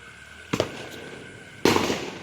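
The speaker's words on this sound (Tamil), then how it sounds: "இப்போ நம்ம வேற வெடிக்கிறோம்" Diwali firecrackers burst outdoors: two sharp, loud bangs about a second apart, the second heavier and trailing into a brief crackling rumble.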